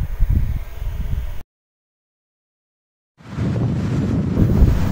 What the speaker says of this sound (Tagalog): naririnig nyo ba yung hampas ng hangin? Malamig at mahangin dito sa lobby.